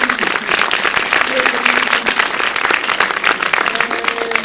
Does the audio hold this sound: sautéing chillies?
no